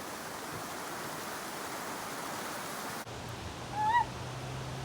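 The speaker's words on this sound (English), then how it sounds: "Water going by in the river." A river running beside a hiking trail, with steady broadband water rush that shifts partway through, closer and fuller, plus a faint low hum and a brief bird call near the end.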